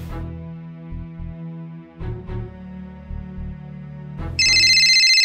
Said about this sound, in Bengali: হ্যাঁ, আমার মাইয়া ফোন দিছে।